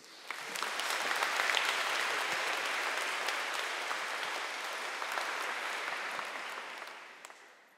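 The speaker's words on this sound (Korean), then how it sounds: "여러분 큰 박수로 모시겠습니다." A church gathering gives warm applause to welcome a bishop. Dense clapping from a large audience swells quickly, holds steady for several seconds, then tapers off.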